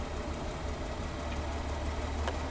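A 1941 DeSoto sedan engine idles with a steady, low, even rumble that holds unchanged throughout, with no voices over it.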